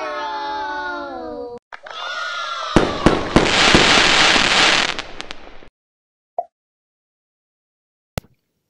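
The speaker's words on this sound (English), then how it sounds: "we celebrate with fireworks as we've gone around the wheel" Celebratory fireworks sound effect from the Wheel Math educational app: a rising whistle, then a loud run of crackling, popping bursts for a few seconds, ending in two isolated sharp pops after a pause.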